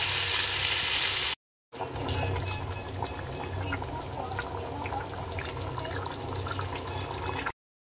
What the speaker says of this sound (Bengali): এবার ঝোল অ্যাড করে দেবো।